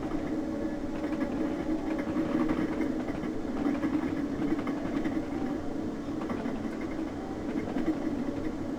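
Train in the Train Simulator game on the Penge East route, near Battersea Pier Junction with speed eased to 35, giving a steady, even rumble and hum throughout with no talk.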